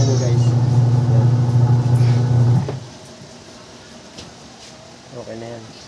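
The motor of a manual twin tub washing machine runs on its wash cycle after being freed from sticking. A loud, steady hum lasts nearly three seconds, then drops away to a quieter background.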